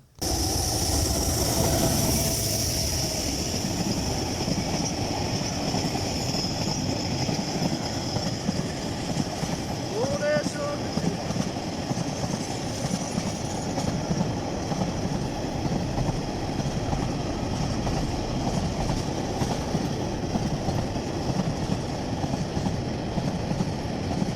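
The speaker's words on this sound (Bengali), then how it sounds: "তো ট্রেনটি আসছে। তো ট্রেনটি দেখুন আপনারা সবাই" A Bangladesh freight train arrives at Mainamati railway station in Comilla. Its loud, continuous rumble and the rolling clatter of the wagons fill the whole stretch, with no talk heard.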